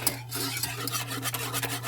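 Spoon stirring a thickening coconut milk, cream and cornstarch custard in a pot, with continuous soft scraping and rubbing strokes against the pot over a steady low hum, no talk.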